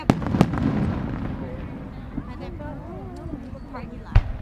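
Fireworks go off at a Kenosha show near the marina, with sharp distant bangs and crackling pops scattered over a few seconds while people talk nearby.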